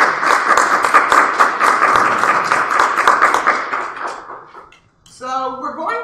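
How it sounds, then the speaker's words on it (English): Audience at a community forum on the opioid crisis applauds a panel of experts, a loud steady burst of many hands clapping that fades out over about four seconds before a person starts talking. "Please, a round of applause for our panel of experts."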